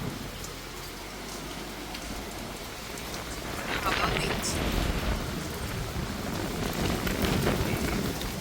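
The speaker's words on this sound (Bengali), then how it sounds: "পুরো একদম মেঘ করে বৃষ্টি হয়েই যাচ্ছে টানা" Heavy continuous rain pours during Cyclone Remal, a dense steady roar of drops on surfaces that swells louder midway, with a person talking under it.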